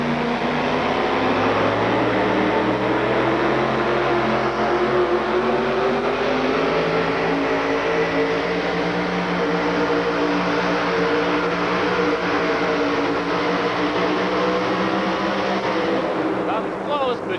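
A two-wheel drive truck's engine roars and revs at a 1987 USHRA truck pull in Minneapolis, a sustained loud drone with shifting pitch through the whole stretch, under an announcer's commentary.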